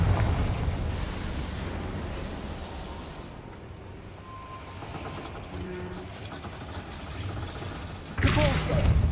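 A fiery Confringo spell blast in the video game Hogwarts Legacy. A low rumbling ambience ends in a sudden loud, explosive burst.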